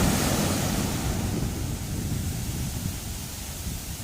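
Steady roar of ocean surf with large crashing waves on the Tiwi beach in Albay, broad wash of noise, loud and continuous, with wind buffeting the microphone.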